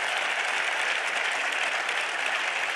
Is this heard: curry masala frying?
no